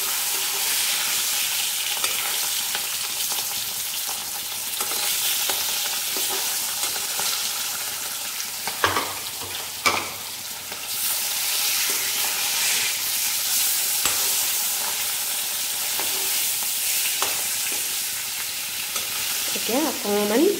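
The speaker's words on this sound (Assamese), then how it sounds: "এতিয়া গোটেই পিচ এনেকৈ দি পেলাই অলপ ফ্ৰাই কৰি ল'ম।" Fish pieces for fish kalia fry in hot oil in a pan, a loud, steady close sizzle with a couple of brief utensil knocks and a faint clatter near the end.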